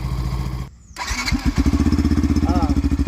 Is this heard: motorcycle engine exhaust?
yes